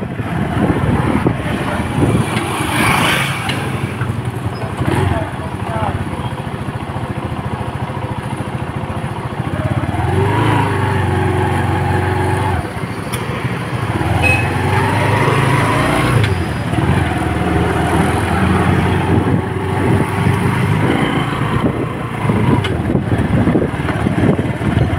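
Busy street traffic passes continuously, with cars and motorcycles rumbling and revving nearby as engine noise rises and falls in overlapping waves.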